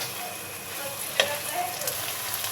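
Chilies frying gently in oil for a hog plum pickle, a steady close hiss of sizzling with one small clink partway through.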